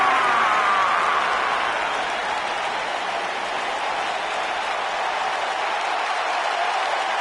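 Arena crowd at a WWE Royal Rumble event applauds, a continuous loud wash of clapping and crowd noise holding steady throughout with no gaps.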